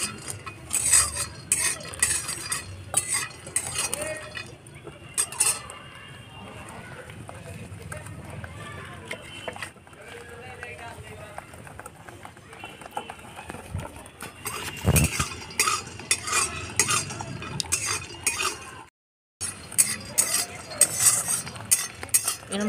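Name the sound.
whisking batter with turmeric and water in a bowl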